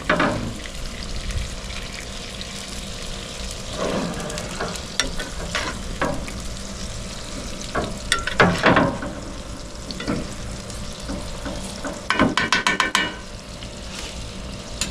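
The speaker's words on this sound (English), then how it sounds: "We're just taking this butter and searing it, or wetting the surface of this guy." An Australian wagyu ribeye sears with butter on a high-temperature grill, a loud continuous sizzle and hiss close up, broken by a few knocks and a sharp flurry of crackling near the end, with no talking.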